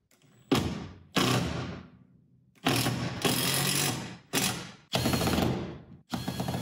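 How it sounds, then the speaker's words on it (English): A driver runs screws into wall studs to hang a tilting TV mount. About five short mechanical whirring bursts are each separated by brief silences, and they sound close and moderately loud. "Put 4 screws in the center of the studs."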